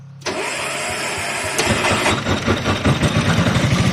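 An auto rickshaw engine cranks and catches after a brief pause, then settles into a loud, close, pulsing idle with an uneven chug.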